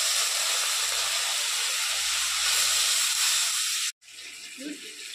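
Spice water with Kashmiri chilli powder hits a hot frying pan while bitter gime greens cook, giving a loud, steady close sizzle for about four seconds. The sizzle cuts off abruptly, then returns as a softer hiss.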